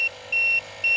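A vehicle's tire pressure monitor sounds its warning as short, evenly spaced high electronic beeps, three in quick succession, clear and close with no talk.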